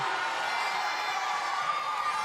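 Hometown crowd at a wrestling show, a sustained roar of voices filling the hall, steady and fairly loud with no distinct breaks.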